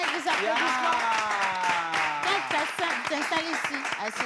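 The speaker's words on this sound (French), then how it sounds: "on l'accompagne avec des applaudissements." An audience claps together in a group, a brisk patter of applause running under a voice and a sung or called-out melodic line throughout.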